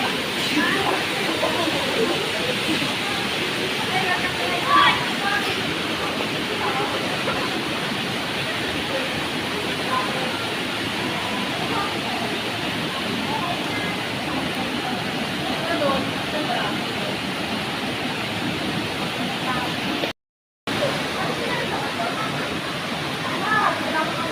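Canding Falls waterfall gives a constant, even roar of falling water that fills the whole stretch, steady and fairly close, with only a brief dropout near the end.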